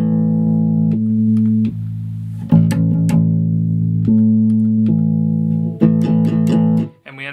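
An electric bass note run through two pitch shifters, stacking into a thick, sustained tone like a guitar power chord, with sharp plucked attacks and a few held notes.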